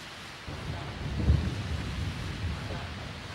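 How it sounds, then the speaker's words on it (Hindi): Rain falls steadily with a low rumble of thunder swelling midway, a soft and distant storm sound with no talking over it. "अरे अरे यार, इस बारिश को भी अब ये आनी थी।"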